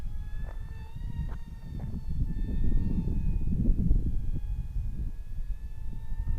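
Z65 Future Jet, a 330mm sub-250g twin-motor RC plane in flight, gives a steady high electric-motor whine whose pitch drifts up and down over a rumbling wind-like wash, with no talking.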